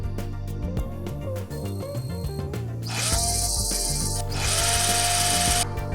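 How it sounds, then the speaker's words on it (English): A power driver with a Torx bit spins screws out of the plastic body panel on a 2015 Yamaha TMAX scooter, sounding as steady close-up whirring bursts, the second running longer and louder, with no talk. "these screws will be unscrewed using the Torx screwdriver"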